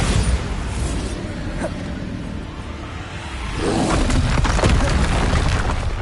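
Bombarda spells explode in the video game Hogwarts Legacy. Loud booming blasts rumble and fade, and midway a second heavy eruption surges with crackling debris that keeps the sound loud to the end.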